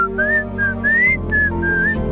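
A person whistles a bright, wavering tune in several short rising phrases, loud and close, with a low hum of background music underneath and no talking.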